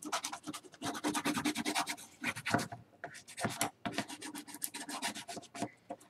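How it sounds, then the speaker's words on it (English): Dry rubbing and scraping as paper is burnished down onto a 6.5 by 6.5 inch mini album cover, a quick series of close, rhythmic strokes in short bursts with brief pauses, and no talking. "And then I'm just going to burnish this down really good."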